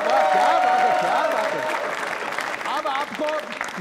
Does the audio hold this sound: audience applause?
yes